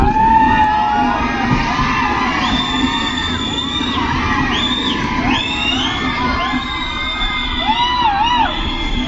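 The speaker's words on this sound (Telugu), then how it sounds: "మొత్తం అరుపులే ట్రైన్ అంతా." A crowd of train passengers shouting and whooping together in a tunnel, loud and continuous, with excited yells rising over a steady rumbling background.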